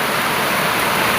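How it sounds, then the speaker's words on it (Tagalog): Heavy rain pours steadily through the night, a dense, even roar of water with no breaks and no voices over it. "napakalakas po yung ulan"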